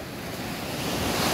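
Big ocean waves crash and wash at a surfing beach, a loud continuous roar of surf mixed with wind buffeting the microphone.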